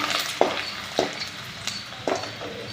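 Garlic dropped into hot oil with popping mustard seeds sizzles steadily, broken by three or four sharp spoon scrapes and clinks against the pan, close and without talk.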